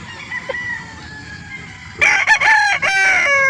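Roosters at a chicken market in Calauan, Laguna: a distant crow sounds first, then a nearby rooster lets out a loud, close crow, broken by short pauses, over faint market noise.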